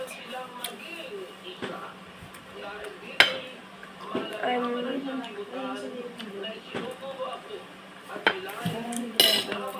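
Cutlery clinks and scrapes against plates and bowls during a meal of corned beef, a steady patter of small close knocks and chinks with people talking throughout.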